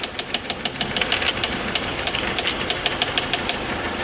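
A bad idler pulley on a 2013 Mini Cooper R56 non-turbo engine knocks at idle, giving a fast, regular rattling tick over the steady hum of the running engine, heard up close with no voices.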